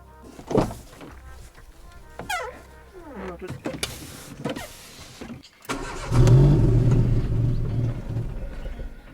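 A used car bought for $1,900 idles with wavering, hunting revs that rise and sag; a low steady engine hum fills the second half after scattered clunks and handling noises, with someone speaking briefly nearby.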